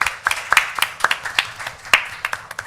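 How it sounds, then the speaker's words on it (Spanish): Scattered, uneven handclaps from a modest audience at a literary creative-writing panel, welcoming the moderator; sparse individual claps rather than a dense ovation, moderately close. "recibamos con un aplauso a Ana Laura Núñez"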